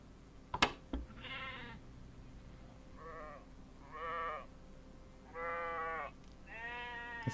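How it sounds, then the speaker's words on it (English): A sheep bleats several times in close succession, loud and near, after a couple of sharp clicks at the start. "Is that a sheep?"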